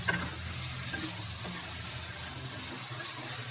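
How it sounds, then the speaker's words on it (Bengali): Chicken pieces drop into a sautéed spice paste in a cooking pan, giving a steady, moderately quiet sizzle and hiss throughout with no talking. "মাংসটা আমি যে মশলাটা কষিয়েছি সেটার মধ্যে মাংসটা ভালো করে দিচ্ছি"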